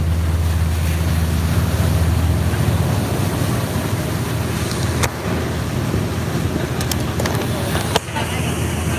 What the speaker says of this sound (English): It's gonna get a little windy